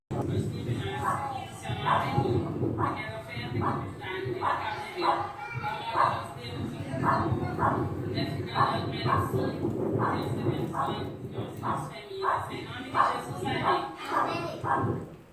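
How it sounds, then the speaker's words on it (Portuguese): Dog barking repeatedly in the background of a live broadcast, short yaps scattered throughout beneath continuous talking. "vídeo ao vivo, né? Com cachorro latindo."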